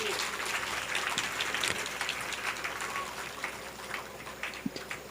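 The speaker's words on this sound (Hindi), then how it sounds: "तालियों से इस बात का स्वागत करिए।" Soft, steady applause from a gathered audience at a Hindu devotional Devi Bhagwat Katha recitation, heard as a faint wash of many hands clapping continuously for several seconds.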